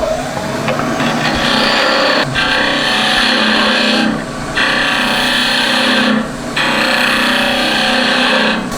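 Wood and resin blank spinning on a lathe while a spindle gouge cuts, a loud steady whirring hum with bright scraping passes separated by two short breaks, no talking.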